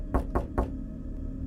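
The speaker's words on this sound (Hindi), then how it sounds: "किसी ने 3 बार खटखटाया।" Three firm knocks on a door, evenly paced and close, followed by a low, quiet room hum.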